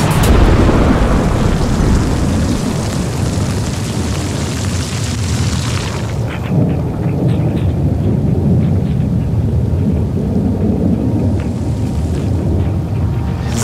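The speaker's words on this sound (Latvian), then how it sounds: "Zibens, pērkons, lietus kā pa Jāņiem reiz 3" Deep, rolling thunder rumbles continuously over heavy rain, loud and close, with the low roar easing slightly midway but never stopping.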